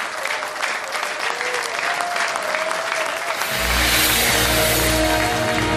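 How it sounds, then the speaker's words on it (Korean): Loud crowd applause welcomes four party convention candidates at a Korean political rally, rising and continuing steadily, with a low droning rumble entering partway through. "아낌없는 박수로 환영해주고 계십니다"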